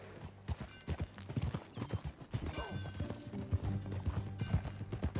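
Horse hooves clip-clopping steadily in the Red Dead Redemption 2 video game, a brisk, even rhythm of distinct hoof strikes at moderate loudness, with low background rumble.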